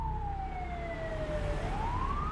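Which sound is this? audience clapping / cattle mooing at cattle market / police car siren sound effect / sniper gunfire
police car siren sound effect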